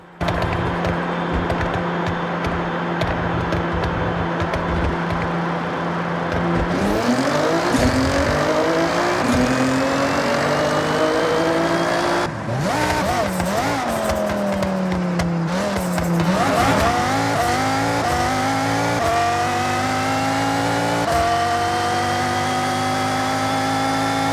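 A 2790-horsepower Nissan GT-R and a lightweight Mazda Miata race side by side, engines roaring loudly and steadily while they rise through the gears with repeated shifts, joined by brief tire noise.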